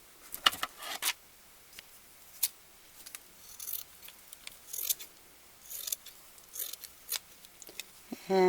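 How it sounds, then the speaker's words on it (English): Scissors snip repeatedly through excess quilt batting on a bunny wreath, giving short crisp cuts in uneven bursts, close and fairly quiet, with pauses between strokes and no talking. "I'm just going to cut off the excess batting"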